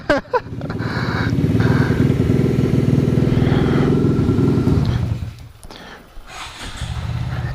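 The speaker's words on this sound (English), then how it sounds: "I don't think I've ever had a two-stroke that idled." A two-stroke pit bike engine putters at idle, a close, buzzing, rapidly pulsing drone that holds steady for several seconds before dropping away, then picks up again.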